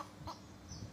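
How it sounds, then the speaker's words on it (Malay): Chickens outside cluck in a few short, faint bursts spaced apart, heard at a distance against a quiet indoor room with no one speaking. "dalam rakaman video ni, kadang-kadang ada terkedengaran bunyi ayam"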